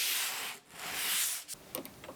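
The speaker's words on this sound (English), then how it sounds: "I just went back with a sanding block and cleaned up all the pieces." Hand sanding plywood with a sanding block: broadband rubbing strokes, two long passes followed by shorter, quicker scrubs, close and fairly loud with no talking.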